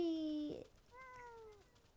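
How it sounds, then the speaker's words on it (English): A cartoonish cat meow from the video game Wobbly Life: two clear, drawn-out mews, the first louder and the second softer after a short pause. "I heard a cat."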